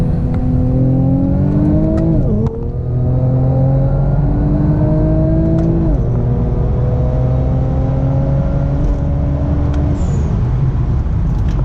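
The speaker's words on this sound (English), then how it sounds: "So we're gonna drop it into second. We're gonna give it some gas." An Infiniti Q60 pulls hard in second gear, its engine loud and close as the pitch climbs steadily, drops briefly at a shift or lift, then rises again under full throttle. There is no talk.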